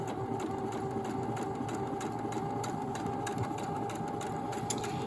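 Sewing machine stitching steadily with Gutermann Maraflex thread, a constant mechanical whir with a rapid rhythmic ticking of the needle, close and even for several seconds.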